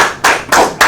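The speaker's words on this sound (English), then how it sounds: "How about a round of applause for that?" A few claps of applause for a nomination at a meeting: three separate, loud, close bursts of hand clapping spaced evenly apart, with brief quieter gaps between them.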